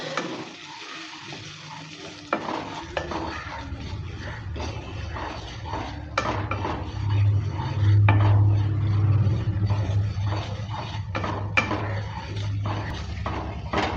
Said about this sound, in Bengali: সুজিটা দেওয়ার পর ভালো করে নেড়ে চেড়ে নিচ্ছি